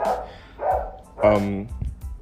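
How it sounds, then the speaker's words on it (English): A dog barks in the background, three separate bark bursts spaced about half a second apart, moderately loud and somewhat distant. "this dog won't stop barking in the background"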